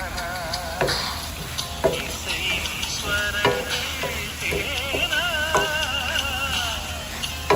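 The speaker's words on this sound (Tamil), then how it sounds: "வெங்காயம் வதங்கிட்டு இருக்குது" Onions sautéing in an oil pan while Chettinad chicken is cooked outdoors in a backyard: a continuous crackling sizzle with repeated scraping and knocking of a stirring spoon, and faint musical tones running underneath.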